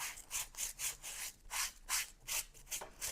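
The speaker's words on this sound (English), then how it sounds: "sure you wash your foam stamps. And so just giving them a little bit of a rub." Foam stamps are rubbed while being washed, giving a soft, faint series of rhythmic scrubbing strokes, each lasting a fraction of a second, repeated steadily and close.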